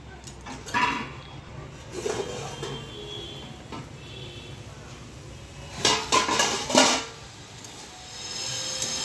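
A pot of mixed vegetable chachchari with radish, eggplant, beans, potato and carrot is stirred on the stove, with intermittent metallic scrapes and clinks, close by, and a dog barking faintly in the background.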